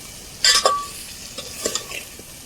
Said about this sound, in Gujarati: હવે એકવાર સરસ મજાનું હલાવી અને આપણે મીઠું સરસ મજાનું મિક્સ કરી લઈશું.